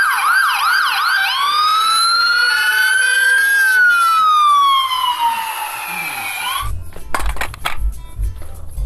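A toy fire truck siren wails loudly, starting with rapid yelps then a long rising and falling tone, followed by clattering handling noises.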